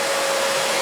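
Fantom Cyclone XT vacuum cleaner running: a steady, loud motor whine with a constant airy rush and a sustained tonal hum, close by and unchanging through the brief moment.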